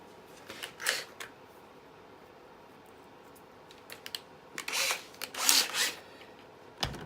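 A hand drill bores a rivet hole in a TIE pilot helmet, a few short whirring bursts spread over several seconds, with scattered clicks and handling noise between them in a quiet room.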